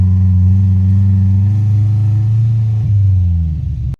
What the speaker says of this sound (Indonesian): kondisi jalannya menanjak ya, tentunya harus menggunakan gigi rendah agar kuat naik